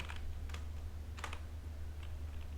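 Keystrokes on a computer keyboard while entering Python code, a few short bursts of clicking taps over a steady low hum, moderately near and with no voice.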